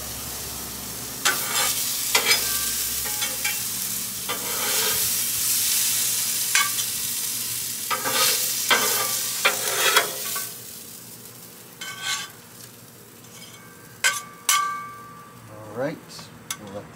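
Onions and mushrooms caramelizing in a pan, a steady loud sizzle with spatula scrapes and stirring knocks, close up, the frying easing off toward the end with a few clinks.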